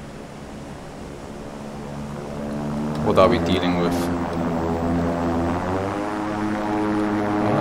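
A propeller bomber in a video game drones with a steady, harmonic engine hum throughout, building slightly louder midway, while someone speaks briefly over it.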